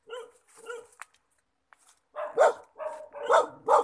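A dog barks repeatedly in a lychee orchard, first a couple of spaced yips, then a run of louder, close barks in quick succession with some whimpering tone.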